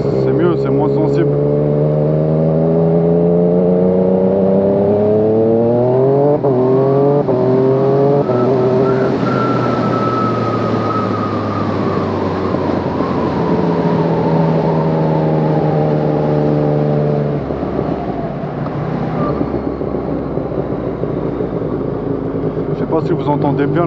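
Yamaha MT-09 motorcycle fitted with a quickshifter and Arrow exhaust, engine revving loud and close with rising pitch sweeps, quick shift cuts and renewed climbs over about twenty seconds.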